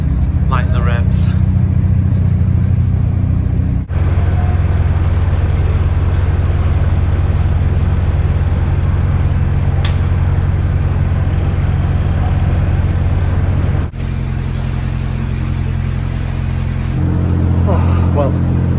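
Narrowboat engine running hard at high revs while crossing the Pontcysyllte Aqueduct, a loud steady low drone close by with wind buffeting the microphone throughout and a brief dip midway.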